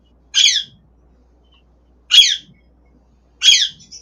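Parakeets give three harsh, screechy squawks spaced about one and a half seconds apart, close and loud, with near silence between calls and no voices.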